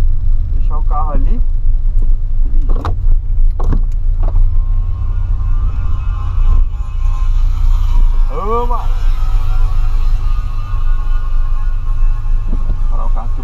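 Car engine idles and rolls slowly while parking near a body shop, a steady low hum filling the scene with faint clunks and squeaks on top; someone talks over it now and then.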